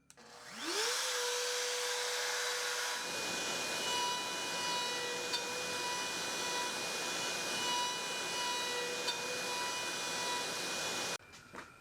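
A wood router, plugged straight into the wall instead of through its CNC machine, whines as it spins up, then settles into a sustained buzzing hum while cutting wooden tenons for an Adirondack chair. It runs loud and steady for about ten seconds before cutting off abruptly.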